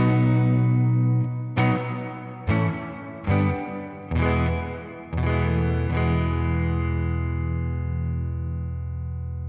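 Electric guitar played through a Strymon blueSky reverb pedal with Low Damp turned to maximum: a series of strummed chords, each attack followed by a thick, bass-heavy reverb wash that sustains and slowly fades after the last strum.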